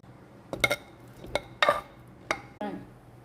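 Peeled ripe mango pieces drop into a cooking pot for a mango pulissery curry, making a few separate hollow knocks and clatters up close with quiet pauses between them.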